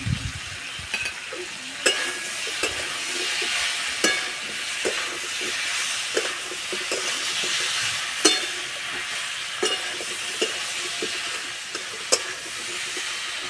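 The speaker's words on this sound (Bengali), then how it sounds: "এই যে কুমড়ো ভাজা হয়ে গেছে" Pumpkin pieces fry in a pan with slit green chilies, turmeric, chili powder and salt, a steady sizzle broken by regular scraping clicks of a spatula as it is stirred, close by and without speech.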